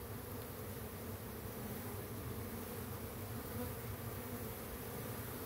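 Honeybees buzz steadily around their hive, a dense, continuous drone of many insects at close range with no pauses or voices.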